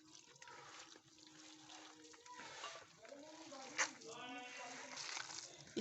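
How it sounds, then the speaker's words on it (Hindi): Water splashes and trickles into a bowl of mashed potato and gram flour batter in brief pours, faint and close, with a voice speaking softly underneath. "अब साथ साथ में ना हम थोड़ा थोड़ा सा करके पानी ऐड करते जाएंगे"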